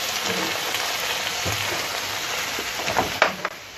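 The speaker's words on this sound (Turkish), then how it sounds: "Kokusu çıkana kadar bunu da yarım olarak kavuruyoruz" Peppers and tomatoes sautéing in a pan for a Mexican-style beef stew, giving a steady close sizzle with a few louder crackles and stirring clatters toward the end.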